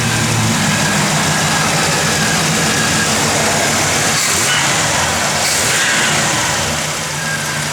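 A 1967 Chevrolet Chevelle SS, a matching-numbers classic car, runs with a loud, steady engine drone heard up close, with mild swells in revs and no talk over it.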